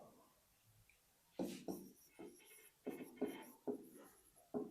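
Chalk or marker writing on a board during an electricity lesson, heard as a series of short scratchy strokes with pauses in between, close and fairly quiet.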